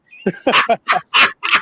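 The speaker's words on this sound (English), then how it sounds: "that's not a car, that's a dog." A pet dog barks and yips in a quick series of five or six sharp bursts, close and fairly loud, with no talk over it.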